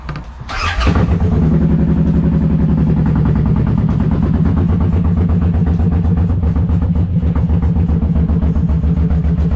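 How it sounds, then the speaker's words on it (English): A 2025 Suzuki M109R Boulevard motorcycle, fitted with a Power Commander 6, cranks briefly and fires up, then settles into a loud, steady, close-range idle with a deep pulsing rumble. "So let's start this bike up, and first start, see if it starts up."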